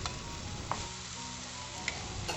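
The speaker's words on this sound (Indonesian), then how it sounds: "Untuk menumis bumbunya sebaiknya gunakan api yang kecil supaya nanti bawahnya nggak gosong" Spice paste sautéed in a wok without added oil, over low heat, gives a soft, steady sizzle with a couple of faint clicks of stirring, quiet and uninterrupted.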